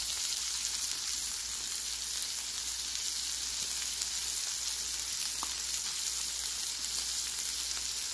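Pork butt steaks fry in butter on a Blackstone griddle, giving a steady close sizzle with faint crackles throughout and no talking.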